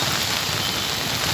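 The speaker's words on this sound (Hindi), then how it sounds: "क्या हाल है बारिश का उधर?" Heavy rain pours steadily over city streets in Hyderabad, a dense, continuous hiss close by with no voices or breaks.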